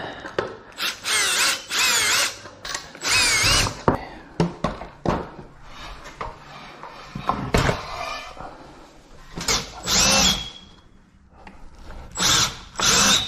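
A power drill drives lag bolts down into wooden boards while a Jeep hardtop lift is installed, giving repeated loud bursts of whirring separated by short pauses and clunks, all close by.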